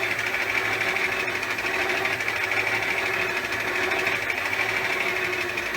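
Motor of an Elliot 14S machine running at 75 hertz, a loud, steady, even whine and hum that holds constant throughout, close and without voices.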